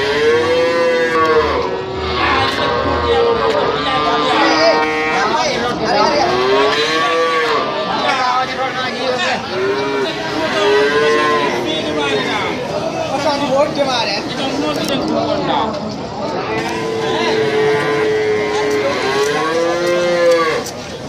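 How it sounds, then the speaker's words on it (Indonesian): Dairy cows moo loudly and repeatedly, their long drawn-out calls overlapping amid the steady chatter of a crowd at the Wonoasih cattle market. "Sapi susu ini Pak ya? Sapi perah ya?"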